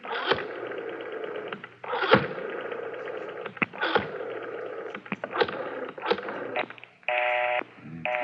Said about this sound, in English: Dial 9 to get outside, Garvey.